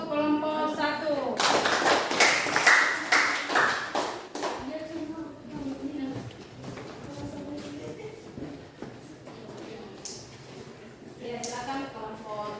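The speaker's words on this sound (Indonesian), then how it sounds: "kita beri aplaus untuk kelompok 1" A classroom of students breaks into a burst of applause for a group presentation in an Islamic studies lesson, lasting about three seconds amid voices and talk before and after.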